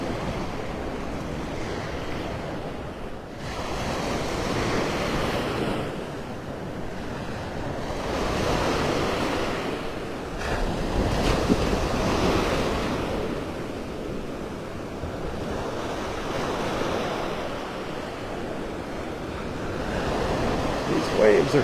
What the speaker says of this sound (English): These waves are something this morning.